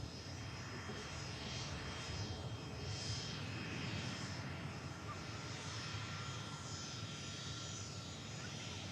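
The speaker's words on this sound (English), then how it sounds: "ATR 72. Emerald Airlines. Operating on behalf of Aer Lingus Regional." An Emerald Airlines ATR 72 turboprop, flying for Aer Lingus Regional at Manchester Airport, gives a steady, moderately distant engine drone with a faint propeller hum. It holds an even level throughout, with no talk over it.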